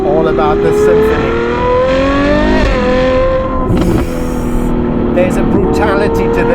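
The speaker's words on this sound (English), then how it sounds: "the way the induction dances with the outlet noise, the change through the RPM range" A Novitec Ferrari 812 N-Largo S with a naturally aspirated V12 revs hard, its engine note sweeping up through the rev range and dropping on gear changes, loud and close, with someone talking over it.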